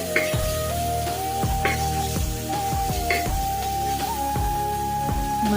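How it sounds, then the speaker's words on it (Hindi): Biryani masala fries in oil in a pan for a spinach and prawn pulao, giving a steady sizzle. Repeated scraping stirs of a utensil recur at a regular pace, and a faint whining tone runs beneath. "मसला टिके तेल छाड़ला जाए तो भलरे भाजी नबा।"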